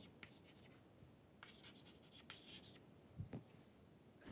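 Pen scratching on paper, faint, soft, intermittent strokes with short pauses and a louder scrape near the end, in a quiet room.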